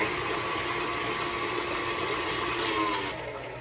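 An electric mixer whirs steadily through cake batter, a constant close, loud motor drone that softens slightly near the end, with no talking.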